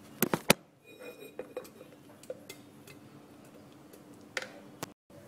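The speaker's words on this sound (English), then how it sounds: "Transfer to a clean glass jar." Nut cheese paste is spooned into a clean glass jar with sharp clinks and taps of utensil on glass, a few quick clicks early, then sparse scraping and tapping sounds, quiet and close, with no talk.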